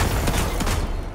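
Grenade blast and dense gunfire in the video game Destiny, a loud continuous roar of explosions and rapid shots filling the whole moment up close, with no talking.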